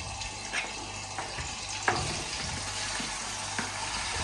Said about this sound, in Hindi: ये आपको आवाज आनी शुरू होगी, इसका मतलब है तेल हमारा गरम हो गया है